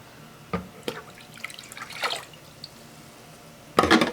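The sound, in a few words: rinsing containers with dripping water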